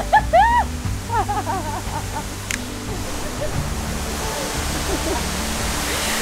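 A waterfall in Kyushu, Japan pours as a broad, steady roar that grows to fill the scene, with voices calling out briefly near the start.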